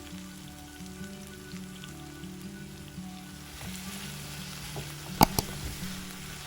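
Brinjal fries with chili powder in a pan, giving a steady, soft sizzle with a low hum underneath. Near the end, a couple of sharp clicks stand out.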